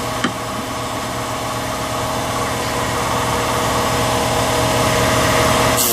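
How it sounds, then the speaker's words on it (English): Pneumatic air chisel used for sculpting, a steady loud rattling buzz held for several seconds, running alone without talk. "This is the chisel. And that goes in like that, and the air forces it to rattle back and forth."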